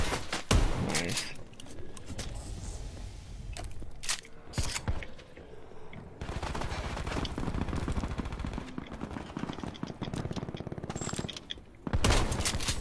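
Bursts of video game gunfire in a fast shootout, loud and close, with clusters of rapid shots separated by brief lulls and no talking.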